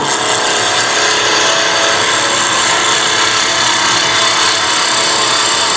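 A steady, harsh hiss of a small hollowing tool cutting a wooden Christmas ornament spinning on a lathe, continuous and loud, with a rough scraping texture throughout.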